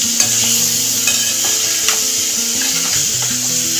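Jackfruit curry frying in a pan while a spoon stirs it steadily, with repeated scraping strokes over a constant loud sizzle and a tonal hum underneath.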